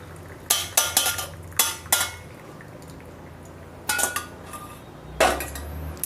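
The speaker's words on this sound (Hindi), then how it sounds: "अब अपन इसको निकाल लेते हैं गैस से और इसको छान लेते हैं" A pot of herbal tea sweetened with jaggery is taken off a gas stove and strained, giving clustered clanks and scrapes of metal cookware and utensils, with quiet pouring between the knocks.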